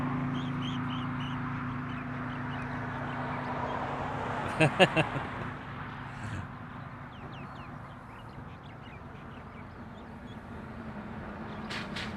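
Outdoors near Honolulu airport, a bird gives a short burst of three or four harsh, crow-like caws at moderate distance, with faint chirps and steady ambient hum around it.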